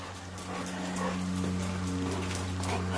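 Puppies whimper with faint, soft whines over a steady low electrical hum indoors, with no talking.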